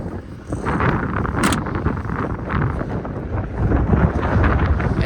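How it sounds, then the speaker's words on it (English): Strong wind buffets the microphone in a continuous, loud, rumbling roar with gusty surges throughout. "it's a bit windy today"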